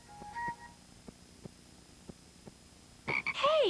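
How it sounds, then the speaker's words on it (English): A frog sitting on a kitchen counter croaks in a short series of faint, evenly spaced clicks and croaks, close and alone against a quiet room, then a louder burst of sound breaks in at the end. "Hey, who put the frog on the kitchen counter?"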